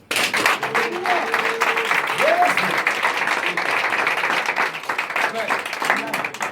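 A church congregation breaks into sustained loud applause and cheering, dense steady clapping throughout with a voice calling out over it.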